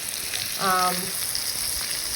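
Steady crackling sizzle of beef frying in a pan, with a brief tonal clank or scrape partway through.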